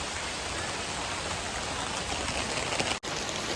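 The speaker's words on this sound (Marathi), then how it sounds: "असा पाऊस पडत आहे" Steady monsoon rain falls on the Yeoor Hills in Thane, a dense hiss of drops on surfaces with no other sounds standing out.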